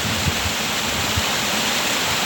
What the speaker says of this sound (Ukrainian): От такий от такий водопад.